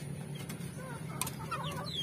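Green junglefowl and ornamental chickens cluck and chirp near a feeding spot in the late afternoon, with several short calls scattered over a low steady hum.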